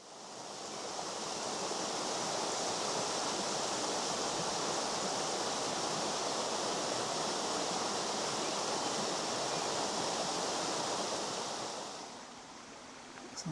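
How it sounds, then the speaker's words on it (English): A river at Dunster flows continuously at an even level, a broad hiss of rushing water without pauses, fading slightly near the end. "the sounds of the river"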